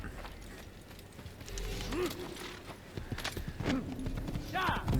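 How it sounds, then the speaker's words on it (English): Horse hooves clop in the video game Assassin's Creed, a rhythmic run of hoofbeats building under game sounds and a snort or whinny, with someone talking over it. "Let's take a horse."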